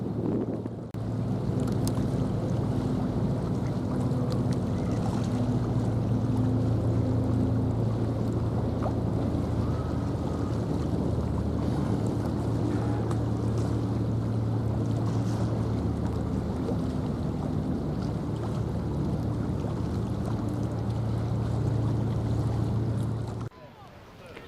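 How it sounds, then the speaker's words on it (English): HMS Sabre, a small patrol boat with two MAN V10 diesel engines, running at speed with a steady low engine drone, water rush and wind buffeting throughout, loud and close. "she is powered by 2 MAN V10 diesel engines which produce 740 horsepower and give her a top speed in excess of 27 knots"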